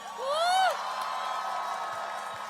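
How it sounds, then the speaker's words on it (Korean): A crowd cheers at an outdoor Korean presidential campaign rally in Ulsan as candidate Lee Jae-myung is welcomed, opening with one loud rising whoop and then settling into a steady, distant wash of crowd noise. "뜨거운 박수로 맞이해 주시기 바랍니다."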